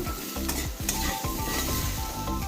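Potatoes and cauliflower fry in a pan with a steady, close sizzle, broken by a few rhythmic scraping stirs and a clatter or two of the utensil. No one speaks.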